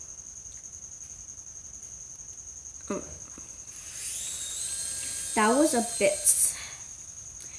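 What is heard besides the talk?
crickets chirping at midnight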